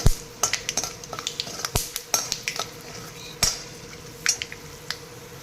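Chana dal, cashews and peanuts stirred in a pan over low heat for a Karnataka coconut rice, with repeated scraping clinks of a spoon against the metal and a soft sizzle beneath, close and alone.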